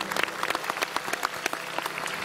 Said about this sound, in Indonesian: Sekali lagi tepuk tangan buat Armada.